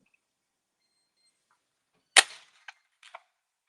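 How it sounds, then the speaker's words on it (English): Alarm system being set in another room of a home, heard as a sharp click or clack followed by a few brief, faint ticks and chirps spaced apart in otherwise quiet surroundings. "my husband's in the other room setting the alarm and scaring the living daylights out of me"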